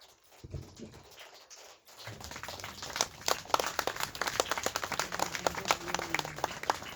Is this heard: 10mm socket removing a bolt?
no